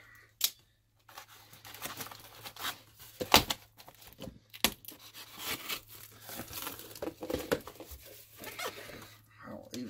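Tape being peeled off a cardboard box while unboxing new Gen 5 Glocks, close crinkling and tearing bursts with scratchy rips and cardboard rustles, broken by short pauses and occasional speech.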